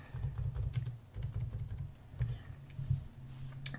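Fingers type steadily on a computer keyboard, entering a patient's phone number during registration, with a quick, uneven run of close, soft key clicks and no talking.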